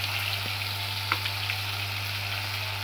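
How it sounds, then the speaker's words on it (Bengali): Hilsa fish fries in oil in a pan, giving a steady close hiss and sizzle that stays even throughout, with one faint tap and no talking. "ইলিশ মাছ ভাজা হয়ে গেল।"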